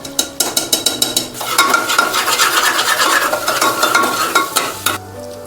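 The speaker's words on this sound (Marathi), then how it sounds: "लालसर असा कांदा भाजून घ्यायचा आहे" Onion roasting in a pan, opening with a quick run of rhythmic spoon scrapes and taps, then a loud close sizzle with ongoing stirring clatter, ending in a brief quieter moment.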